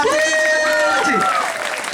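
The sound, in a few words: applause for Rajshahi Kings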